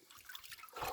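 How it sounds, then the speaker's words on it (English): Wet laundry washed on a washboard is wrung out by hand over a basin, letting water trickle and dribble down faintly, the splashing swelling briefly louder at the end. "I'll pull everything out individually and just roughly hand wring it out and throw it in this other basin"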